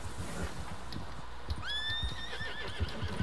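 A horse whinnies in Red Dead Redemption 2, a rising then wavering neigh lasting over a second, set against steady clip-clop hoofbeats and low rumbling ambience throughout.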